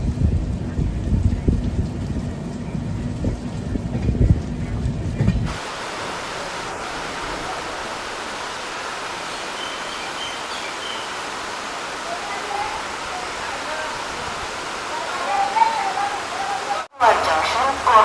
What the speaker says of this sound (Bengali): এখন কিন্তু মুষলধারে বৃষ্টি হচ্ছে